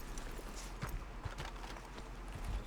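Horse hooves clip-clop steadily in Red Dead Redemption 2, a continuous mid-distance trotting rhythm layered over a dense low ambient bed.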